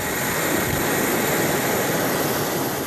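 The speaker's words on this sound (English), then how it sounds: "We're flown in by military helicopter, the only way into Palma right now" A military helicopter flies over the remote Palma area of Cabo Delgado province, Mozambique, its engine and rotors producing a loud, steady, close roar that runs without a break, with no voices.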